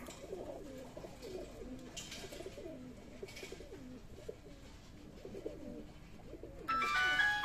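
Pigeons kept for sale coo repeatedly in a soft, low rolling pattern, several calls in a row at moderate distance, with a brief burst of higher noise near the end.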